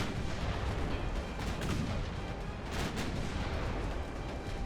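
Naval guns fire in the Ultimate Admiral warship game, a dense, continuous roll of distant booms and crackling artillery reports with no clear gaps between shots.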